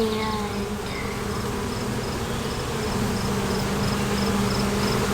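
Worker bees hum in a dense, steady drone at close range around a hive, a continuous buzzing layered with individual wingbeat tones, and a faint regular ticking pulse runs through it.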